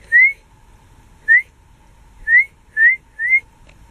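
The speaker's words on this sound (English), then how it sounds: "I'm trying to get her to pay attention with whistles like her brother does." A person whistles for a kitten's attention with five short, rising, bright whistles at uneven gaps, loud and close, in a quiet room with no talk.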